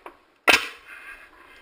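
A nail gun fires once into hip roof framing with a sharp, loud, close crack. A short ringing tail fades afterward, and a faint tap comes just before.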